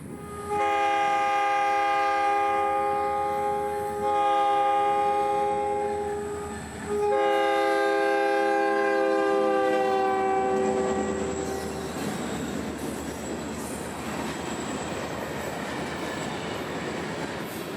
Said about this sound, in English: our train rumbles north on the main, with track authority all the way to Fort Pierce